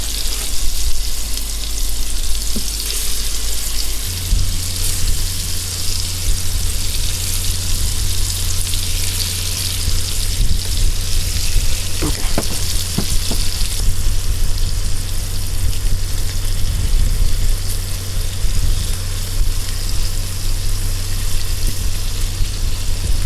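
Cooked shrimp added to an Instant Pot of black soybean spaghetti, with a continuous loud sizzle and frying hiss and a low hum underneath.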